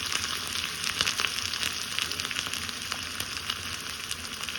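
Onion, garlic and curry leaves sauté in oil for sambar, a dense, steady, close sizzle with fine crackling and a few small pops throughout, with no speech.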